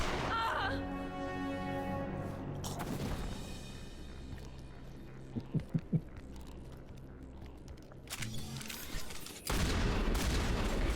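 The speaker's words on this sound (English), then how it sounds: "Just shotgun blaring in a medical clinic" Shotgun fire inside a medical clinic in Mass Effect, a few sharp close blasts in quick succession midway, amid game music and a heavy boom toward the end.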